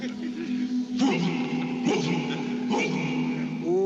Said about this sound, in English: That sounds like a rabbit dog.